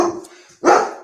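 A dog outside gives two short barks, a softer one then a louder, sharper one close after.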